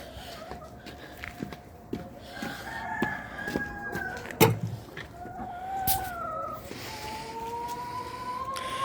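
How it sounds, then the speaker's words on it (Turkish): Chickens cluck nearby while a rooster crows a couple of times, with footsteps and shuffling underneath. "Şimdi tavuklarımı dışarıya çıkarıyorum"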